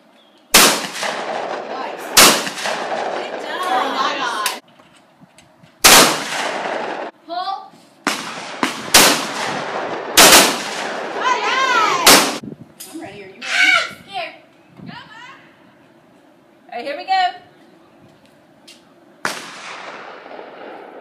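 Shotguns fire in a series of sharp, loud blasts at irregular intervals outdoors, with voices talking and laughing between the shots.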